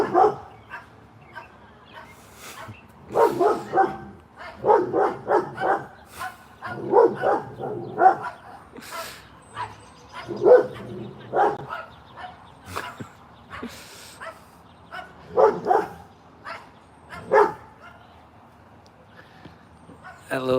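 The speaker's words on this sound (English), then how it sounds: "that little dog across the street, that is Napoleon if I ever saw one." A little dog across the street on a night walk barks in repeated sharp bursts separated by pauses, moderately distant, with an occasional voice nearby.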